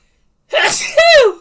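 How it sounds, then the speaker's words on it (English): One powerful human sneeze, a sharp gasping intake followed by a loud explosive burst, close and alone after brief silence. "That was a powerful sneeze."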